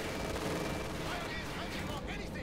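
Browning machine guns firing in Company of Heroes 2, a 1v1 match: a dense, continuous crackle of rapid gunfire with overlapping bursts and distant battle noise, steady and fairly loud across the whole short stretch.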